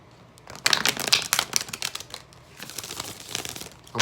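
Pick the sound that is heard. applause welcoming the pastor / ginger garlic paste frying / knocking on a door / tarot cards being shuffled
tarot cards being shuffled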